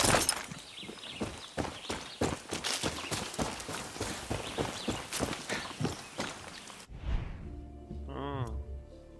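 Horse hooves clip-clopping in a steady rapid rhythm on the ground in Far Cry 6, close and fairly loud, stopping abruptly before a brief voiced sound at the end.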